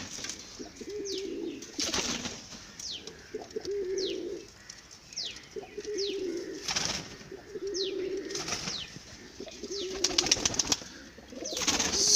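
Healthy pigeons coo in repeated low rounds, with several bursts of wing flapping and some higher chirps mixed in, close by and moderately loud.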